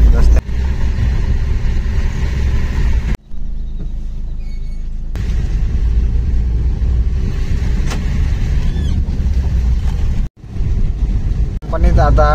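A Maruti Ertiga drives along a road, its engine and road noise making a continuous rumble beneath someone talking, with a few brief drops.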